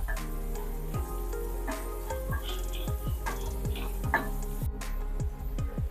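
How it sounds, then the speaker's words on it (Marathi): Eight to ten curry leaves and chopped onion sauté in a pan for a Maharashtrian pithla, giving a steady close sizzle with a repeated clack and scrape of a spoon stirring through it. "आता ही सुद्धा आपण कांद्यासोबत व्यवस्थित परतून घेऊया"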